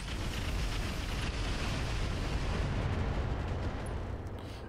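Mech weapons opening fire in the video game Roguetech, a dense, sustained roar of booming artillery-like blasts and rumble filling the whole stretch with no voices.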